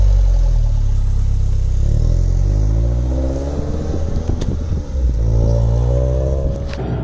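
A light, rear-wheel-drive Lotus S2 111S with 160 hp pulls away in second gear on roads near the Fontenay circuit, its engine droning loud and steady with rising and falling revs and no talk.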